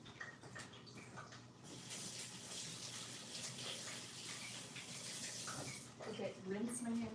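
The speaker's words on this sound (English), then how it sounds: "I'm gonna wash my hands first." Tap water runs steadily into a sink while hands are washed, a continuous broadband splashing gush that swells slightly toward the end, with a person talking briefly near the close.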